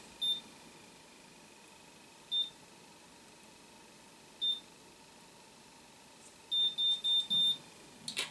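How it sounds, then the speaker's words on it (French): Faint high-pitched electronic beeps from a BaByliss Perfect Curl hair curler: a few single beeps spaced a couple of seconds apart, then a quick run of several beeps in a row. "J'attends le triple bip."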